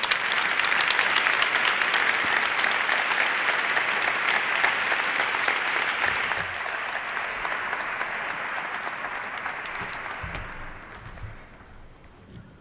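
A large audience applauds steadily and loudly, then the clapping gradually thins and fades away.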